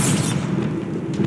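A Bombarda spell explosion in Hogwarts Legacy, heard as a short, loud, booming blast that decays into a low rumble.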